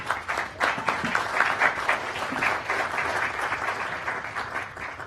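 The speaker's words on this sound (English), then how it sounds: "And truly, you deserve applause." An audience at a livestreamed event tent gives steady applause, a dense, moderately distant patter of many hands clapping that continues evenly.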